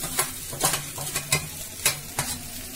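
Onions and soybean fry in a pan, a steady sizzle under repeated spatula scrapes and knocks at irregular intervals, close and clear with no talking.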